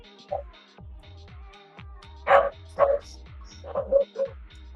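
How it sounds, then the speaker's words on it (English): Dogs barking in the background, giving several short yips and barks at a moderate distance over a low rhythmic electronic pulse, with no speech. "you guys can hear the dogs in the background."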